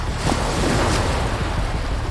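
Rough Baltic Sea waves at night surge and crash in a continuous roar, with heavy low rumble and wind noise throughout.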